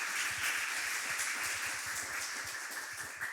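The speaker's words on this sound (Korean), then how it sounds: "박수." A church congregation at a combined parents' worship service claps in a quick, fairly even patter of applause, moderately distant and sustained for a few seconds.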